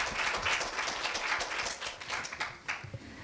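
Brief burst of encouraging applause from an audience of students and guests at a middle school speaking festival, dense steady clapping filling the hall and tapering slightly toward the end.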